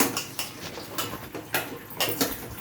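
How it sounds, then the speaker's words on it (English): A pot of pumpkin and water is set on the stove, with a series of sharp metallic clinks and knocks of metal against metal, close and fairly quiet, spaced irregularly with no talking. "I'll keep this on the stove."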